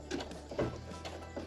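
A sewing machine stitches faux leather slowly around curves, making faint, soft mechanical clicks that come as a few evenly spaced stitch pulses close by.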